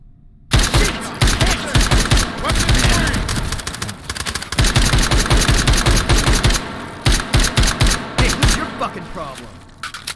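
Rapid, heavy gunfire in the VR shooter H3VR, with dense bursts of automatic shots rattling almost nonstop, brief lulls, and loud, close, punchy reports.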